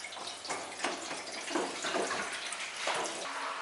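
Water runs from a tap into a sink, a steady close splashing rush with uneven surges, used for checking a brand new bicycle inner tube for leaks; no voices.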